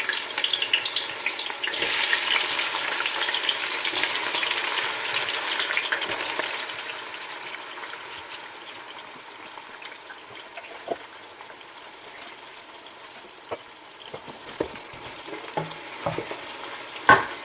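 Sliced onions fry in a pan with a steady, fairly loud sizzle that fades somewhat midway, then continues more quietly with occasional clicks and stirring knocks; no one speaks.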